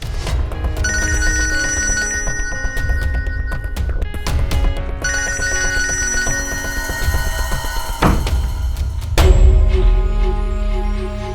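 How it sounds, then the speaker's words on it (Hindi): A phone ringtone plays a repeating electronic melody in loud, steady cycles. It breaks off briefly around the middle and gives way to a different sound near the end. "फोन उठा लेना बेटा"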